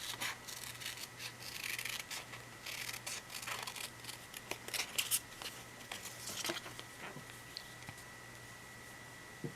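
Scissors snipping through paper to cut out a tree shape for an autumn planner page, quiet repeated rustly cuts and scraping in an otherwise hushed room, with a steady low hum underneath.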